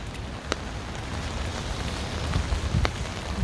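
Steady rain falls on a downtown Chicago street in Streeterville early in the morning, a dense, continuous hiss of drops on pavement with a few sharper close splats.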